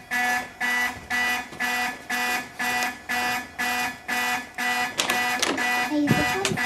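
Fire alarm sounding in a house, heard from outside: a steady run of repeated harsh buzzing horn blasts in an even pulse, fairly loud, followed by shuffling and a moving voice near the end.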